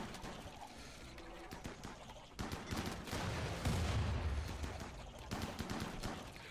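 Continuous crackling gunfire and grenade blasts from a RimWorld colony battle, a steady dense barrage of rapid shots with a heavier thumping burst in the middle, no talking.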